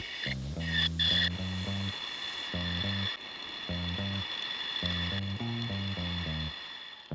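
A metal lathe boring a bearing socket grinds in short, separated bursts of pulsing scraping over a constant high motor whine, close and moderately loud.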